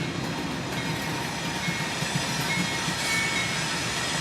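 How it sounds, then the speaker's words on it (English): A train rolls past steadily nearby, with a continuous low rumble, soft clacking wheels and a faint hiss of air. "let's kind of watch this train as it kind of rolls by us here"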